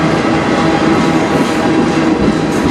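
A CN freight train rolls past at Sarnia, Ontario, on the Strathroy Subdivision, a steady, loud, close rumble of railcars and wheels that continues without a break and with no talk.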